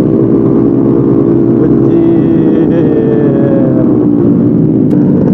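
A motorcycle engine revs loudly and close by during a night ride through Jakarta. The continuous drone rises and falls slightly with no pauses.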